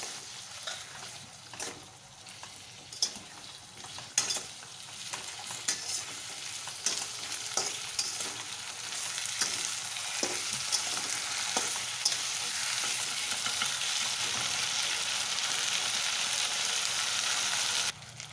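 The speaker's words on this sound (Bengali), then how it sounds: "সব কিছু ভালো করে একটু কিছুক্ষণ ধরে কষিয়ে নেবো" Cumin and ginger paste sautéed in hot oil for a fish curry, giving a continuous close sizzle that swells louder toward the end, broken by occasional soft stirring scrapes and taps.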